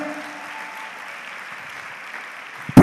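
A church congregation applauds in a soft, continuous wash of clapping that sounds slightly distant and holds steady, ending with a sudden loud thump.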